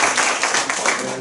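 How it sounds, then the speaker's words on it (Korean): A church lecture audience breaks into applause, dense steady clapping from many hands filling the room for about a second, fairly loud with no clear talk over it. "이거 박수 한번 합시다."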